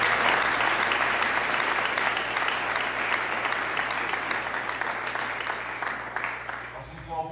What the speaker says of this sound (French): Est-ce que ça va pas mériter un applaudissement?